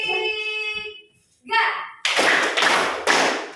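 An Indonesian school class claps three times in unison on a teacher's cue. A voice speaks first, then three sharp, evenly spaced group claps ring out close and loud.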